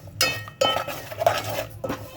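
Green cardamom pods pounded for sesame laddu, giving a few sharp, close knocks and clinks spaced irregularly, with a brief quiet gap between strikes.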